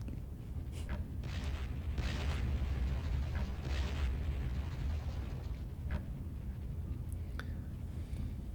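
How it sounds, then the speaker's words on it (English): Deep, rumbling booms and blasts in the video game Warhammer 40k Fire Warrior roll continuously with crackling bursts layered on top, loud and sustained like a battle scene. "Explosions don't look bad."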